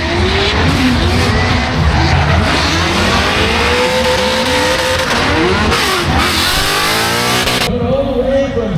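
Drift cars at a Formula Drift event at Road Atlanta scream past with screeching tire squeals and revving engines, loud and continuous with sweeping pitch changes as they slide through.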